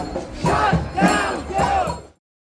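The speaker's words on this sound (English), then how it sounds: "The group becomes more vocal, chanting, "Shut down DOGE,"" A protest crowd against DOGE chants a rhythmic slogan in loud unison, three repeated shouted phrases over about two seconds before cutting off abruptly.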